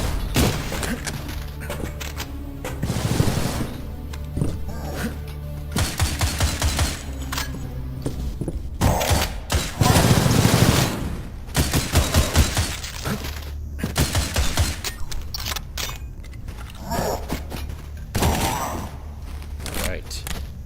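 Enemy shotgun fire in the video game Cultic, heavy blasts spaced irregularly among crashes and breaking sounds, with a voice talking between shots.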